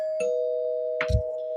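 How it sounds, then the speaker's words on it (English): A single ring of a podcast spoiler bell, a short bright chime struck once, heard over a steady background tone with a brief thump right after. "So I'm gonna hit the spoiler bell."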